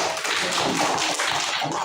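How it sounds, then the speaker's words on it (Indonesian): Classroom children clap together in an Indonesian lesson, a brief burst of dense, close, overlapping claps at moderate loudness with no talk over it. "Tepuk tangan untuk."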